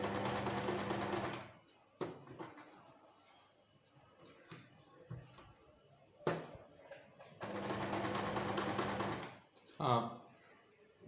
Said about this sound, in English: you'll see me here using a sewing machine